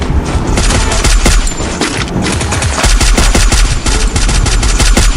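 Gunfire in the mobile shooter Free Fire bursts loudly in rapid automatic volleys, dense and close, with heavy booming shots running nearly without pause.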